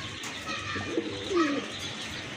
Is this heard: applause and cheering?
no